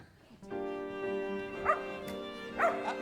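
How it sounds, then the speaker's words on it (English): A small dog barking indoors, two sharp yips over a sustained tonal background, with a voice heard in the scene. "Will you take that beastly dog out of here?"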